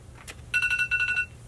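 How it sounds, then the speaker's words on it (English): A phone alarm rings in short bursts, a quick series of bright electronic tones pulsing twice in rapid rhythm, close and clear with no talking. "All right, my alarm went off."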